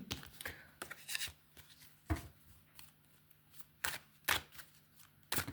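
Crisp, irregular bursts of a tarot card deck being shuffled and riffled by hand, close up, separated by short pauses.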